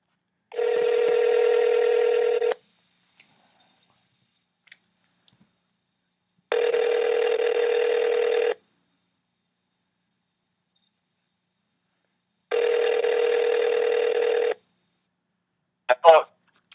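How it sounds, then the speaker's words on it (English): A phone call being placed: three long, identical steady tone bursts separated by silent gaps, with a short burst of dialing clicks at the end, clear and close. "We're going to get Bonesaw here on the phone here."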